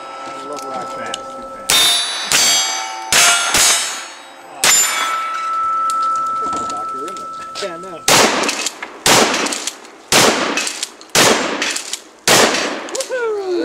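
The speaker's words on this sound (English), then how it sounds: "Beat by a teenager with a pump gun." A pump-action Winchester 97 shotgun fires at steel targets during a local shooting match, with loud close blasts and ringing metallic clangs in a rapid, irregular string, and brief voices around the shots.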